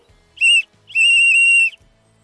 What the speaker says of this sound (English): He blew a whistle